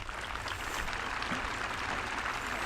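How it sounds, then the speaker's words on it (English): Applause from the audience at the Avon High School Class of 2022 graduation comes as a faint, distant, even wash of many hands clapping together without a break. "Let's give these folks a round of applause"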